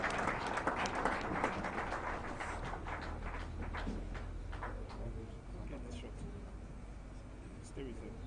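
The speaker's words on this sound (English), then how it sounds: "Please give him a round of applause as he comes up." Scattered applause at a Middle Belt conference in Nigeria greets a speaker coming up to the stage, heavier at first and then thinning into sporadic claps under a low room hum, with voices talking in the background.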